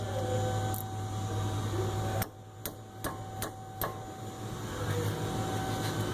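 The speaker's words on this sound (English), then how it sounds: "Got a 14mm wrench on the 14mm bolts here and here. So we could break them loose," A 14mm wrench clicks on the brake caliper bracket bolts of a Subaru Outback, giving several sharp, evenly spaced ticks over a steady background hum.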